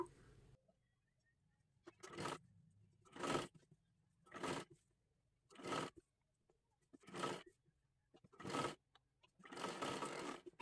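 A sewing machine stitches along a dress neckline in seven short buzzing bursts separated by quiet pauses, the last run slightly longer, close and moderately loud.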